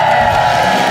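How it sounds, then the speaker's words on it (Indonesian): A game show studio audience cheers and applauds for three contestants, a loud, steady crowd roar with whoops that fills the whole moment without a break. "Tepuk tangan lebih meriah untuk mereka bertiga."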